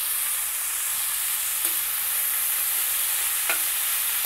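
A spoon stirs jackfruit husk curry in a pan over a steady sizzling hiss, with a few faint scrapes against the pan.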